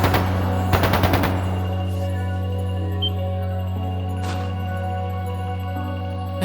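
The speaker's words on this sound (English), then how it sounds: "That sounded like gunfire." Video game gunfire from The Legend of Heroes: Trails of Cold Steel II, a quick burst of rapid shots near the start over a steady low musical drone, followed by a few fainter isolated reports later on.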